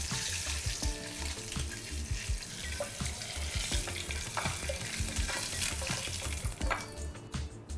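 Eggs fried in oil in a pan with salt and turmeric for Bengali egg curry with poppy seed paste, giving a steady loud sizzle with stirring scrapes and clatter throughout, no voices.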